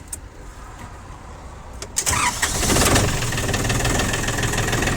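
A cold Japanese tractor with a loader and rotary tiller, started without glow plugs, settles into a steady idle; a sharp catch near two seconds gives way to a loud, rough, continuous engine rumble up close.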